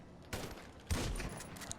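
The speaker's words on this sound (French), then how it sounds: "on va vider 2 chargeurs" Bursts of gunfire in GTA V as two magazines are emptied, with a couple of sharp loud volleys and scattered shots over a quiet background, no talking.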